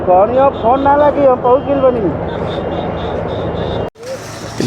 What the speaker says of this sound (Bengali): এই যে হেলিকপ্টার দেখছেন এই হেলিকপ্টার অবিরাম সবসময় নজরদারি রেখে চলেছে